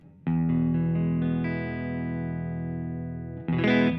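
An electric guitar, a Fender Telecaster on the neck pickup, plays through the fuzz side of an EarthQuaker Devices Hoof Reaper pedal, a thick sustained distorted chord ringing for several seconds before a second harsh strum.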